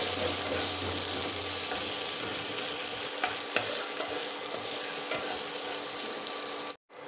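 Minced ginger and garlic sizzle and fry steadily in hot oil in a home kitchen while being stirred for veg momo filling, a continuous close hiss with occasional scraping stirs and a brief break near the end.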